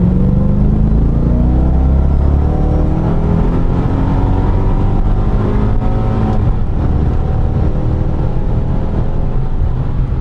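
The 2006 Mercedes-Benz E 55 AMG estate's engine revs loud and close, a deep continuous roar with rising harmonics as it accelerates, then settling and building again, with no voices.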